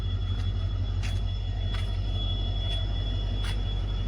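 A passenger train running on the rural Talaguppa to Shivamogga line near Anandapuram station gives a steady, close rumble of wheels on track. A constant high whine sits above it, and no one speaks.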